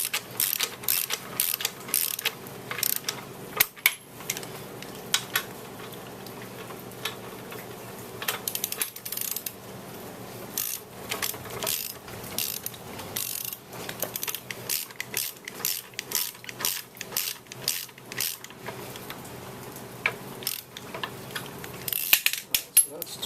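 A ratchet wrench tightens a bolt on a floor jack during a repair, giving a dense run of rapid metallic clicks throughout, loud and close, in bursts with brief pauses and no talk.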